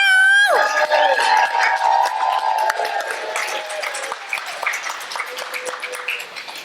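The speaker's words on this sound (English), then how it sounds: "I'm just using my uproarious clapping to air out down here." A crowd applauds and cheers loudly, with dense clapping that holds strong and then slowly thins, mixed with excited voices and a few shouts.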